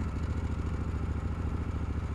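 Harley-Davidson Pan America Special engine running just after the ignition is switched on, a steady low rhythmic thumping pulse, close and fairly quiet, with no voices.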